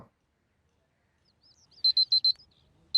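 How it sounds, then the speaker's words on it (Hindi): An alarm clock beeping in short electronic bursts, a quick run of four pips followed by another after a pause, fairly clear in an otherwise quiet room. "अलार्म बज रहे, तेरा उठ जा।"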